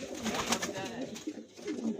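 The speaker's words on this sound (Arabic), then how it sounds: "حمام كله صفراوي حني. شوفوه" Yellow, henna-coloured pigeons coo close by in soft repeated throaty rolls, with overlapping calls and some faint background noise.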